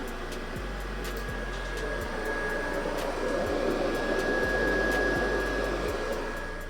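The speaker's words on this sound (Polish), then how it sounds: "To znaczy wentylator wszedł na większe obroty." Cooling fan of a faulty PS4 Pro console spinning at high speed, a loud steady whooshing drone with a faint high whine and rhythmic low pulses, no talk.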